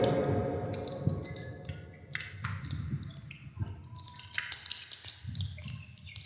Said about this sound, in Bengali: ভালো করে মুখটাকে ধুতে হবে।